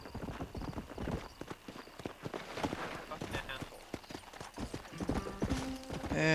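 Hooves of a horse or mule clip-clop in Red Dead Redemption, with a quick, uneven run of close, sharp hoof strikes and a brief whinny near the end, while players talk over them.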